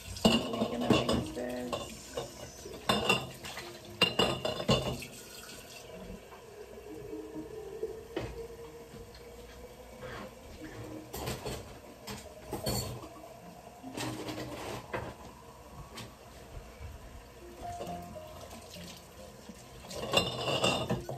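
Tomatoes are stirred in a pot for home canning, with quiet scraping and sloshing broken by sharp clinks of a utensil against metal and glass, intermittent and low in level with no talking.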